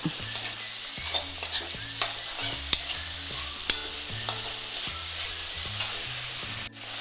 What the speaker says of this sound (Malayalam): അതും കൂടി ഇട്ട് കൊടുക്കാം. എന്നിട്ടൊന്ന് വഴറ്റിയെടുക്കണം.